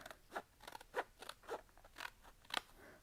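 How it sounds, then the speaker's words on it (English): Scissors snip through several paper layers on a mason jar lid craft, about six crisp close cuts in an irregular rhythm with no talking. "So I like to trim off my lid here."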